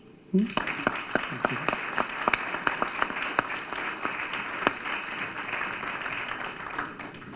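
Steady applause from a crowd, sharp individual claps standing out over the dense wash of hands, sustained throughout.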